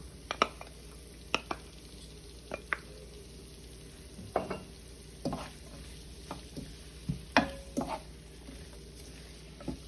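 Bell peppers are being sautéed in a pot for Dominican saltfish sancoche, giving a quiet, low sizzle broken by scattered clinks and scrapes of stirring at irregular intervals.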